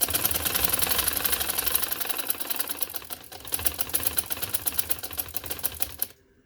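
Sewing machine stitching a V-neckline with lace, running in a fast, steady rhythmic rattle of needle strokes for about six seconds, close and loud, then stopping abruptly.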